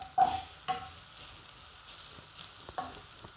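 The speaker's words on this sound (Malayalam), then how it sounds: "ഇതെല്ലാം കൂടെ നമുക്ക് നല്ലതുപോലെ ഒന്ന് വറുത്തെടുക്കാം" Grated coconut and three or four shallots fry in coconut oil for a mixed vegetable theeyal, with a low sizzle under sharp scraping strokes of a spoon against the pan, coming in three distinct bursts.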